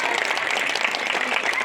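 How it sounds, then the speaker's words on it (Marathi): Dense audience applause fills a Marathi seminar hall, a steady wash of many hands clapping at once, close and even for the whole short stretch. "वाजवा रे टाळ्या त्यांच्यासाठी, कळलं का?"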